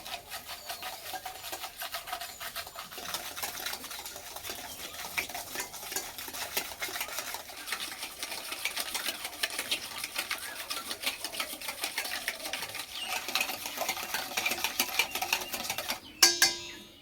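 Flour is mixed with salt, baking powder, baking soda and sugar for naan puri dough, giving a faint, steady, rapid scratching and stirring with a louder clatter at the very end and no voices.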